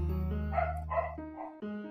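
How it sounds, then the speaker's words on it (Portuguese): A neighbour's dog barks a few times in quick succession, distinct but somewhat distant, over the steady music of an Undertale game. "Desculpa ver esse cachorro latindo aí"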